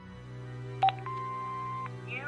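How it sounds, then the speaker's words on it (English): An answering machine in the Broken Sword 5 adventure game plays back, with a short beep followed by a sustained electronic tone over a low humming background, heard alone. "Hobbs's answer phone, and he's got messages."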